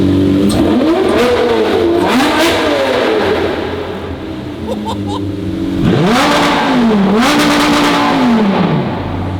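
A Lamborghini engine revs hard inside a parking garage, two loud surging blips climbing and dropping in pitch with echoing reverberation, the engine idling roughly between them.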